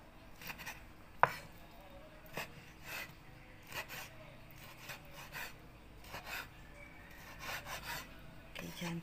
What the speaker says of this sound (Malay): Kita potong dia nipis-nipis.